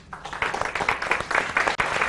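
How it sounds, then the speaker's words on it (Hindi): A studio audience on a business innovation television show applauds to welcome a guest, a short burst of moderately loud, steady clapping that rises quickly and holds. "जोरदार तालियों के साथ स्वागत कीजिए पीयूष माथुर का।"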